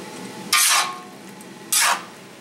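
Pepper steak being stirred in a wok, two separate scraping, sizzling sweeps of a utensil through the pan, each about a third of a second, over a quiet background without talk.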